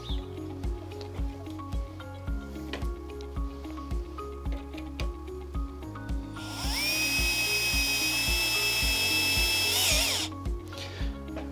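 A power driver sends a screw into a wooden rake handle in one sustained whirring burst of a few seconds, loud and close, with steady rhythmic background music playing throughout.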